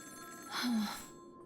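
A telephone rings in the video game Honkai: Star Rail, a short electronic trill heard over soft background music.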